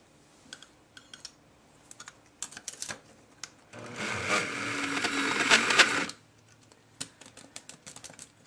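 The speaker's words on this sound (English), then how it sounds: "my poor, cheap spice grinder seems to be conking out" A cheap spice grinder grinding cacao into chocolate whirs loudly for about two seconds, struggling as it runs, with scattered clicks and taps of handling before and after.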